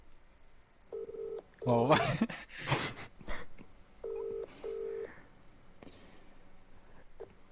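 A phone call goes out and rings unanswered: a few short electronic dialing and ringing tones with gaps between them, mixed with animated voices talking and exclaiming over them, fairly quiet overall.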